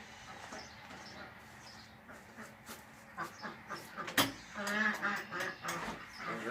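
Farm ducks quacking in the morning, a scattered run of calls that grows busier and louder toward the end, with light outdoor background noise.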